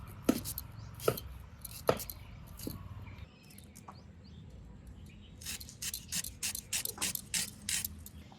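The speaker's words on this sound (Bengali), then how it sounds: "ফোড়নের পেঁয়াজগুলো কুচি করব" Onions for a mutton curry with potatoes are chopped with a knife on a board: a few loud, isolated knocks come first, then a quick, even run of close chops. No one speaks.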